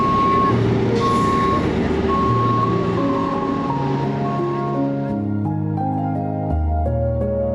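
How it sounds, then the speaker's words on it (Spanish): Trucks roll onto a ferry at Mazatlán, a steady loud engine rumble with a repeating reversing beep tone and a hiss of air brakes, the drone shifting lower near the end. "Ah, siguen entrando camiones todavía."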